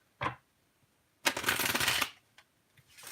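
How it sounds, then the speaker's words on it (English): Tarot cards are shuffled in one fast, crisp riffle lasting under a second, after a short earlier tap, with quiet around it. "One last shuffle and we will lay a spread."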